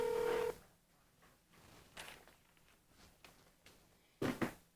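A telephone call placed to a window tinting business, with a short steady dial tone, then faint ringback pulses and a louder electronic burst near the end, with no voices.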